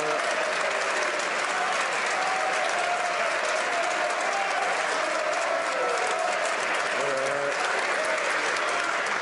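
Sustained applause fills a parliament chamber, a dense, steady clatter of many hands clapping for the full stretch, loud and unbroken.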